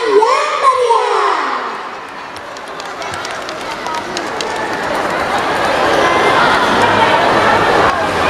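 Crowd at a school arts showcase at an elementary school in Palembang breaks into sustained applause and cheering with children shouting, rising after a brief lull and holding steady and loud to the end, with some voices mixed in.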